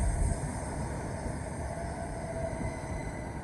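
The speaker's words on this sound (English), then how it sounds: "Coming in now to 12:41 Southeastern service from London Victoria to Ramsgate" An electric passenger train rumbles steadily close by as it arrives at Sittingbourne station, a low continuous roar with a faint high whine above it, no voices.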